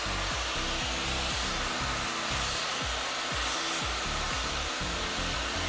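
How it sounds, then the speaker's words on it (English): A hair dryer fitted with a diffuser blowing on curly hair, a loud, steady whooshing hum held throughout, with faint rhythmic rubbing and handling sounds beneath it. "We're now going to dry the hair. I'm using a diffuser."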